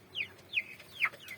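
Four-week-old broiler chickens on a poultry farm give a few short, high clucks in an irregular series. The calls are fairly near against a quiet background.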